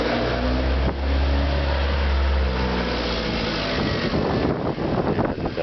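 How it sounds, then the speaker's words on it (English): A car engine idles and revs close by in a narrow alley between old houses as the car tries to turn, steady and fairly loud, with a burst of scraping, rattling noise near the end. "there's a car trying to turn down here"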